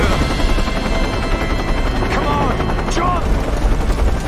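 A helicopter in the Tomb Raider video game gives a loud continuous rotor roar with rapid chopping, mixed with bursts like gunfire and two brief voice fragments.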